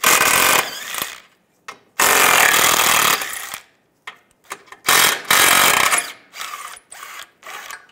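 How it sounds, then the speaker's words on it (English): A ratchet with a 13 mm socket backs out hub bolts on a 1998–2010 Volkswagen Beetle front wheel bearing assembly, in loud, close bursts of rapid mechanical clatter separated by short pauses, with no talking. "Now we're going to take these three bolts out using a 13 millimeter socket."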